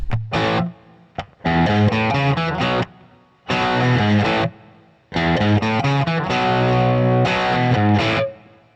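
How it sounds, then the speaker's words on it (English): Heavily overdriven electric guitar through a Line 6 Helix, drive and master at 10, playing chords in bursts with short pauses, thick, woolly and muddy with saturated distortion, loud and close. "I actually cranked the drive and the master to 10, and we got this"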